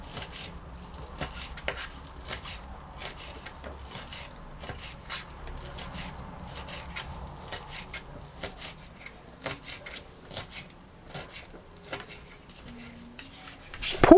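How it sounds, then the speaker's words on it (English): A knife chops scallion finely on a board, a quick run of light, irregular taps that stay soft and close, with faint kitchen background throughout. "Chop scallion fine."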